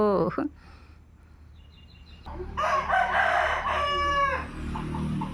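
After a brief voice and a quiet pause, a rooster lets out one loud, sustained crow close by, trailing off into faint background noise.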